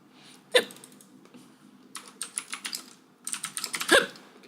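Sharp single hiccups punctuate bursts of computer keyboard typing, one near the start and another near the end, close and fairly loud in a quiet room.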